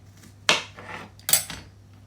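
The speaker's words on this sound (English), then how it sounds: "Cut open another strawberry" A knife cutting open a strawberry in a home kitchen: two sharp clicks of the blade against a board, close and distinct, with quiet between them.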